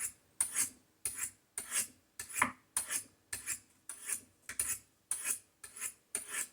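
A 154CM steel knife is drawn along aluminum oxide sharpening rods, about a dozen crisp, evenly spaced scraping strokes in a steady rhythm, close and clear with no talking.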